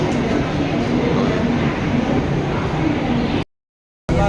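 A train rumbles along loudly and continuously, a dense rolling roar up close, cutting off abruptly near the end.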